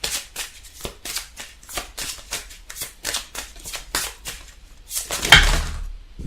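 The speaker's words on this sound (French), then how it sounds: "On va tirer 3 cartes." Tarot cards are shuffled in a quick run of crisp riffles and flicks, close and fairly quiet, ending with a louder rustle and thump as cards are drawn.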